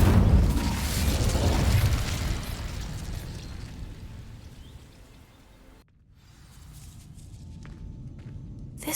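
A fiery Incendio spell cast in Hogwarts Legacy, heard as a loud roaring whoosh that fades over several seconds and cuts off into a quieter room tone.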